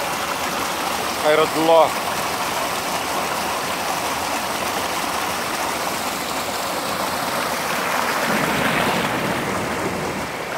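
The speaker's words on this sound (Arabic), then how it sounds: "وهذه راه استمراريه لهذا الماء دار كله كيمشي للسد" Water flows steadily along a valley stream heading toward a dam, a constant rushing wash outdoors, with a man's brief words near the start and footsteps or movement later.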